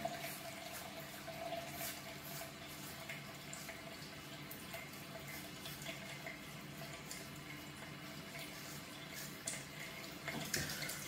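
Gillette Mach 3 Turbo razor rinsed under a running bathroom tap, a steady soft trickle of water splashing into the sink throughout, fairly faint, with a louder splash near the end.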